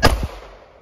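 A single close, sharp gunshot from a Glock 48 pistol fitted with fiber optic iron sights, a loud crack with a quick echoing tail that dies away within a second.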